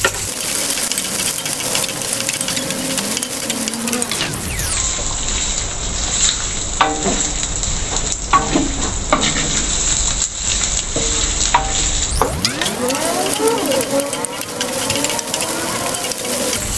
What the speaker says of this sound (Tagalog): Pag golden brown na po yung bawang natin, next natin sibuyas. Sunod, luya.